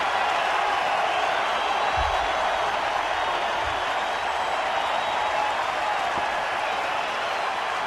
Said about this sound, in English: And this crowd is losing their minds.